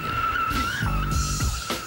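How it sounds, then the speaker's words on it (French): Tires squeal loudly as a car with an electromagnetic active suspension turns in tight circles on a parking lot, a sustained high skidding whine that wavers in pitch over a low engine rumble. "On peut constater également la différence quand la voiture tourne en rond sur un parking."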